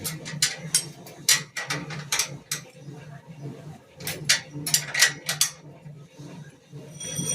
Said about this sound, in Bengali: তারপরে এদিকে নাটবল্টুটা টাইট করে নেব